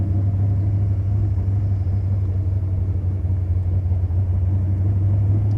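Big heavy fast car pulling off in first gear, a steady deep engine rumble and drone, loud and close inside the cabin, with no talk.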